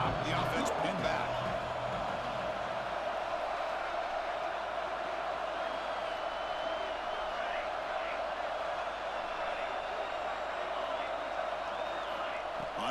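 Video game stadium crowd from EA Sports College Football 26 during a game against Louisville, a continuous distant roar of fans that holds steady throughout, with brief commentary-like voices near the start.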